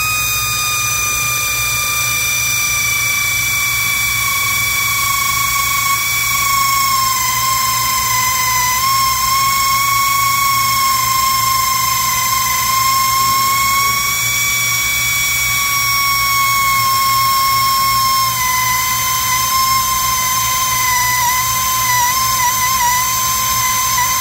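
A drill bores into the ATI crankshaft pulley of a Dodge Challenger HEMI with cutting spray applied, giving a loud, continuous high whine with steady harmonic tones and slight pitch wavering throughout.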